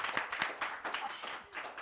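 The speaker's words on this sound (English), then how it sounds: "I thought your panel was going to clap for you." A small studio panel applauds guests on a live show, with a short burst of close, uneven hand claps that fade slightly toward the end.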